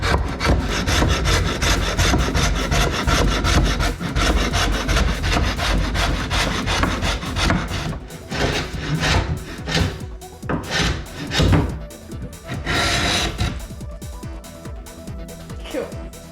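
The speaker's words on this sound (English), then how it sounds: "I'll just get my planer. We'll flip this over and I'll just shave a little bit off the bottom." A power planer shaves wood from the bottom edge of a kitchen cabinet, a loud close rasping whir that runs steadily, then breaks into choppy strokes near the end.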